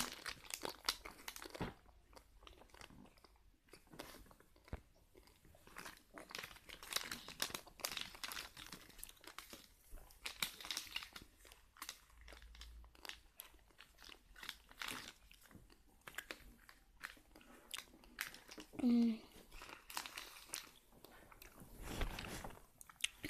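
Tico chocolate snack being eaten up close, with soft repeated crunches, bites and crinkling of the wrapper scattered through a quiet room and no talking.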